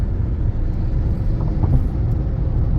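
Steady low road rumble of a car driving along a mountain route through countryside on a road trip to Croatia, continuous and even from inside the vehicle, with no talk.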